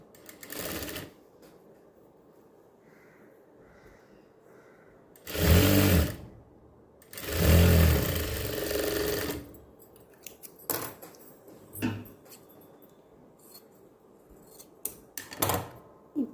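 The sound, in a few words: sewing machine stitching silk cotton fabric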